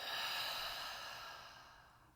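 A long, breathy exhale released slowly during a guided breathing exercise, a soft airy rush close to the microphone that tapers off gradually, with no talking over it.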